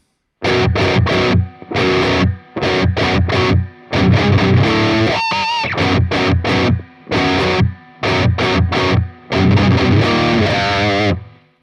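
A heavily distorted electric guitar chugs through the choppy main riff in standard tuning, short bursts separated by brief gaps, loud and close, with no voices.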